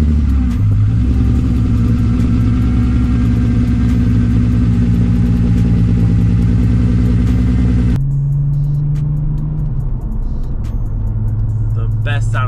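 A VR6 engine in an MK4 VW Jetta wagon rumbling at a steady, loud idle with a deep low drone, shifting to a lower, calmer note partway through, under someone talking.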